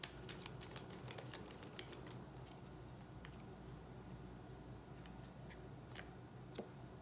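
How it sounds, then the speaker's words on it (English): Oracle cards being shuffled by hand, a quiet run of soft riffling clicks and flicks in an otherwise still room, faint and close. "Okay, one more shuffle."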